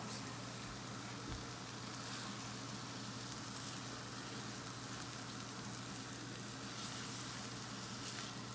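Eggs fry in a cast iron pan, giving off a quiet, steady hiss of sizzling that holds constant throughout, with no voices.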